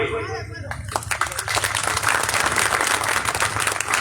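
A crowd at a mushaira poetry gathering in Bihar applauds at the end of a poem, as a voice gives way to a loud, close, steady wash of clapping that carries on to the end.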